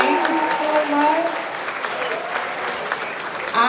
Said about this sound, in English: Can we give everybody from HBCU Week a round of applause, please?